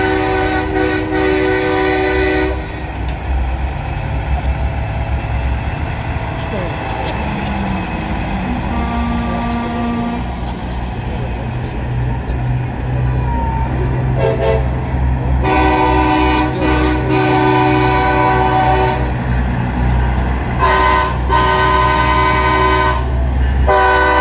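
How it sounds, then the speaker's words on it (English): A custom S series truck in a night truck show parade sounds a loud train horn, sustained multi-tone blasts near the start and again in the second half, alongside rumbling engine and convoy noise. "He has a train whistle, or train bell"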